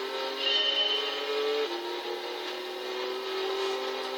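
An Audi R18 TDI race car in Gran Turismo 6 holds a steady high engine whine that drops once in pitch at a gear change, then climbs again, loud and alone.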